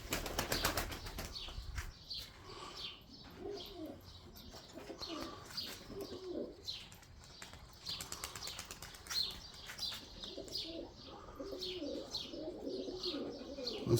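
A bird flying overhead gives repeated wing flapping and fluttering, with pigeon-like coos and chirps scattered throughout. The sounds are faint and distant, with a louder burst of activity at the start and no talking.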